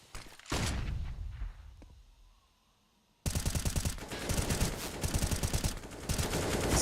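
Rifle gunfire during a Counter-Strike match: an opening burst, a fading tail into near silence, then sustained rapid automatic sprays of shots, loud and continuous to the end.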